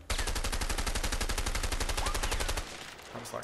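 Rapid automatic gunfire from the video game A Way Out, a loud sustained burst of evenly spaced shots that cuts off near the end, followed by quieter game sounds.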